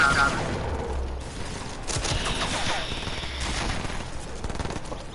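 Rapid bursts of hand cannon gunfire in Fortnite crackle over a busy, noisy mix, with voices talking underneath.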